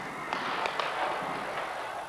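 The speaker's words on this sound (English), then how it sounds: "The noise of gunfire rose from all over the center of Peking." Scattered gunfire crackles and pops across central Peking in 1989, with several sharp reports standing out over a constant wash of distant noise.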